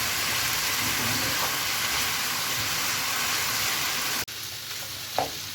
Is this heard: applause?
no